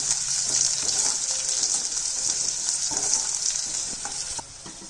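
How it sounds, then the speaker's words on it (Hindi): Green chillies sizzle steadily as they fry in hot oil in a pan, with occasional stirring scrapes and clinks; no talking. "अब मैं डाल देती हूँ हरी मिर्च। इसे भी 1 मिनट के लिए भून लेते हैं।"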